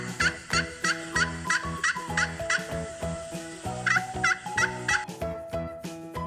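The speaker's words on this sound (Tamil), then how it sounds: "turkey." A domestic turkey gobbling in rapid rattling bursts, repeated several times at close range, loud and clear over a tonal musical backing.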